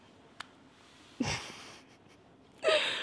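A woman yawns twice, close and alone: a long breathy drawn-out yawn followed by a second, louder one after a short pause, with a faint click just before.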